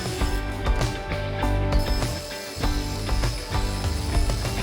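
Table saw blade tilt mechanism being cranked over to 45 degrees, a steady close ratcheting, gear-driven clicking that runs continuously with slight pauses.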